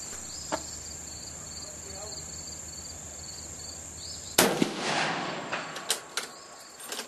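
One sharp gunshot is fired over a digital chronograph outdoors. It cracks loudly midway and rings out in a decaying tail over a steady background of chirping crickets.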